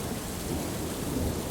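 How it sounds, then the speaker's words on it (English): Steady heavy rain pours down with thunder rumbling low underneath, a dense, continuous wash of noise with no voices. "But then the sky turned gray and the rain poured down."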